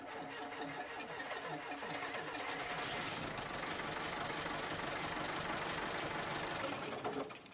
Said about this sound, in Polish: Czyli mały benzyniaczek odpala diesla.